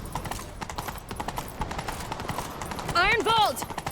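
Steady, close clip-clop of a galloping horse's hooves in The Witcher 3, with a loud neigh near the end over busy background game sound.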